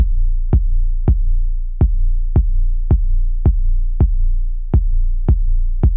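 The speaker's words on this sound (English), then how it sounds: "I'm also using the limiter to sidechain the 808 to the kick." A deep, sustained 808 sub-bass tone is sidechained by a limiter to a sharp kick drum hitting in an uneven pattern, the bass swelling back after each punchy thump.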